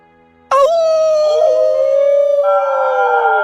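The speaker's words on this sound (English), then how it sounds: "The dogs howl with their master." Dogs howling in the video game Alluvium, a sudden loud sustained howl that starts abruptly and holds steady, shifting pitch slightly partway through, with no talking.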